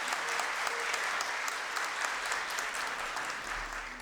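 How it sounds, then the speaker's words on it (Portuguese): Applause from an audience at a solemn session for a Tiradentes medal presentation, a continuous dense crowd clapping heard at a distance and fairly faint, steady for the whole stretch. "Uma salva de palmas para a Geórgia."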